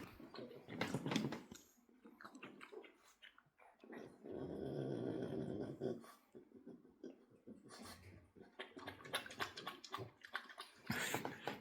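A dog growls and snarls in long, rough stretches, close and fairly loud, broken by short pauses and some scuffling.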